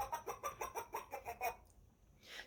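Electronic chicken clucking from a children's Muppets sound button book, the Camilla the chicken effect: a quick run of about eight bright, rhythmic clucks, then a short pause and one softer squawk at the end.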